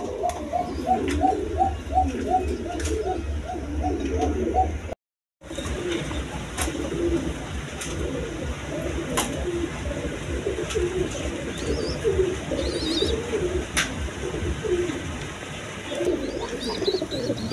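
Pigeons cooing in a loft with chicks and egg-laying pairs, a steady chorus of overlapping coos close by with small chirps, broken by a brief silent gap.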